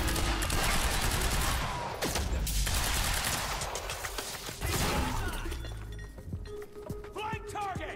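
Gunfire in the video game Quantum Break, a dense crackling barrage with shattering debris that runs loud and steady, then thins out toward the end as game voices come in.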